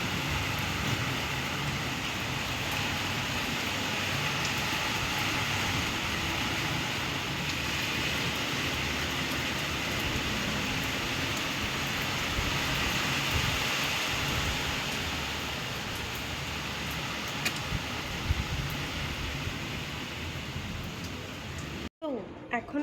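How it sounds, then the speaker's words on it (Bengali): Heavy afternoon rain pours down steadily, a dense, constant hiss of broadband noise that continues without pause for over twenty seconds before cutting off abruptly. "তো এদিকে বলতেই না বলতেই বৃষ্টি জোরে চলে এসেছে।"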